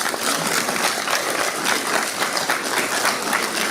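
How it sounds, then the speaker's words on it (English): Sustained applause from a large crowd, steady and dense clapping that fills the whole stretch without pause. "Do give her a round of applause"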